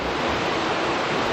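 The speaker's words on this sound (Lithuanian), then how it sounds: "Matosi, kaip krioklys ten veržiasi." Waterfall gushing outdoors on a fine day, a steady, dense broadband roar filling the whole clip with no pauses or voices, sounding close and fairly loud.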